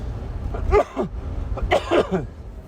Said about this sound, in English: my cough seems to be getting worse again